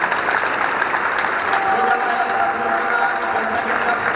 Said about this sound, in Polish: Ogromne brawa dla najlepszej drużyny 5. Draftkampu.